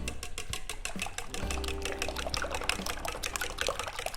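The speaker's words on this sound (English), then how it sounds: "I'm gonna whisk it a little bit more." Eggs whisked vigorously in a bowl while making kimbap, a fast run of wet, rhythmic clicks and sloshing strokes that stays steady and close throughout.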